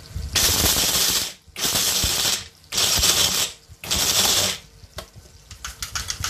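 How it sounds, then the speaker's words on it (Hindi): A mixer grinder grinds roasted cashews, almonds, melon seeds, raisins and chironji in four loud, harsh pulses separated by short pauses, followed by softer rattling. "अच्छे से बारीक पीस लेते हैं इसको हम पूरे, काजू बादाम पूरे मगज"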